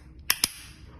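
Two sharp, close snapping clicks in quick succession from a small LEGO rubber band gun firing, faint and alone against quiet room background.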